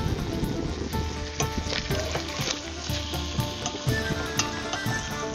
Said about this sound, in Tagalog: let's turn them over to brown off the other side